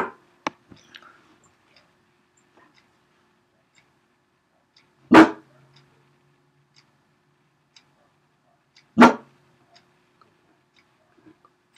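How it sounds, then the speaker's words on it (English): A neighborhood dog gives two sharp, separate barks several seconds apart, fairly close and loud against an otherwise quiet room with faint ticking. "There are dogs in my neighborhood barking,"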